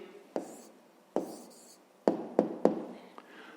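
Handwriting on paper while solving a fifth-grade math exercise, heard as a quiet series of short scratchy pen strokes with brief pauses, several quick strokes bunched near the end, close and with no talking.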